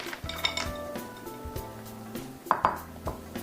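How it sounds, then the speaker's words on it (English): Black mussels drop into a metal pot, their shells clattering and clinking against it in a few close bursts, with a couple of sharper knocks near the end and no voices. "So I'm going to add in the mussels first because they would take a little bit longer to cook"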